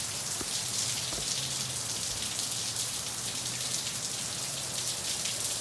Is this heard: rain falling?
yes